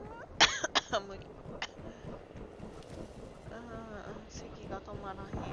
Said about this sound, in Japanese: 咳が止まらへん。